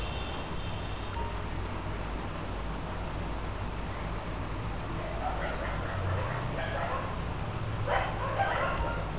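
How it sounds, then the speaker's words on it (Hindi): Dogs bark in the background, faint and distant, in a few short clusters under a steady hum and low rumble. "और ये बैकग्राउंड में डॉग्स भौंक रहे हैं"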